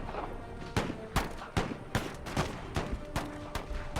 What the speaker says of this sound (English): Puckle guns continue to do work.